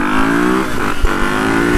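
A Yamaha 250 motorcycle engine revs at a steady, loud, close drone, dipping briefly in the middle before settling back to an even roar.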